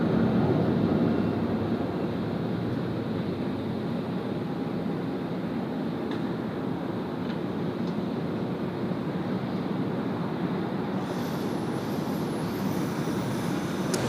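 A passenger aircraft lands on runway 16 right at Sydney Airport, a loud, steady roar with wind noise across the microphone, holding level throughout and rising into a higher whine near the end.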